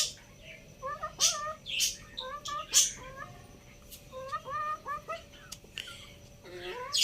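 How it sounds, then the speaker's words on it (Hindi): A hen about to lay eggs gives a series of short, high, squawking calls, rising and falling irregularly, fairly close with faint background noise, in a village. "जिस मुर्गी ने अंडे देने होते हैं ना, वो इस तरह की आवाज़ें निकालती है"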